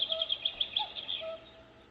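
A CUCKOO 6-cup rice cooker chirps a repeated run of quick, bird-like electronic tones that sound like a cuckoo call. The tones are fairly close, with no talking, and they fade slightly toward the end.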